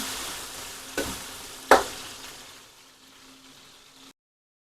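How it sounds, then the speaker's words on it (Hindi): Onions sizzle in a pan with a couple of sharp stirring knocks, the frying fading softer before the sound cuts off. "प्याज को करेंगे ब्राउन।"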